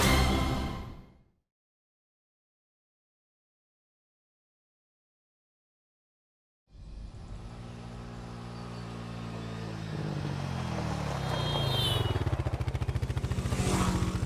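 A motorcycle engine is heard up close: a loud running engine cuts out into silence, then restarts and holds a steady, rising idle and rev.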